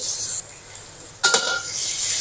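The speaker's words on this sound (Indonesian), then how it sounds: "Ini minyak sisa menggoreng ikan bilis tadi aku sisakan sedikit. Masukkan bawang merah, bawang putih." Shallots and garlic sautéing in a little leftover anchovy frying oil give a steady, close sizzle with a brief quieter gap and a clink of a utensil stirring the pan.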